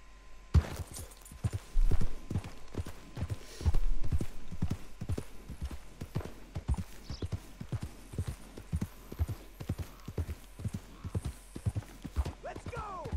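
Horse hooves clop in a steady rhythmic beat as a horse moves along in Red Dead Redemption 2. The hoofbeats are clear and continuous, with a few heavier thuds and a brief whinny near the end.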